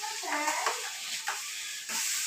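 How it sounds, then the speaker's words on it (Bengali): Spices go into a pan of fried onions on a home stove, giving a soft sizzle and hiss with a few scraping stirs, quiet and close. "পেঁয়াজ ভাজা হয়ে গেছে, এখন মশলাগুলো দিব।"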